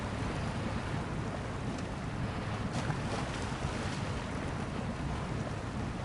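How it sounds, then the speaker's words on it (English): Water sloshing and splashing over an off-road truck in Snowrunner, Kincade County: a continuous, loud rushing wash with no break, like surf against the cab. "When you do something like this and the water splashes on the screen."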